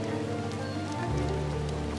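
Steady rain falling on surfaces in the video game The Midnight Walk, a dense continuous patter over a low droning hum that shifts partway through, with no talking.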